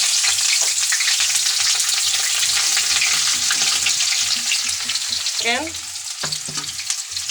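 Biryani spice paste with bay leaves frying loudly in a pan, a dense crackling sizzle with stirring scrapes; a brief voice and a short whistle-like sweep cut in near the end.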